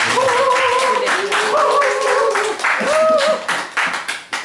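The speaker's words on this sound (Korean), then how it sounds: "모실 때 큰 박수 부탁드리겠습니다" A small library opening audience claps to welcome a speaker, with loose, scattered hand claps mixed with voices speaking over them, thinning out toward the end.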